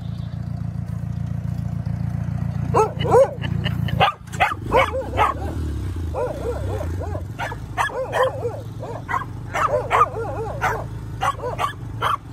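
A border collie barks repeatedly in sharp, irregular bursts, close and loud, over a steady low rumble of tractor engine noise during forward dirt scraping, with occasional yips between barks.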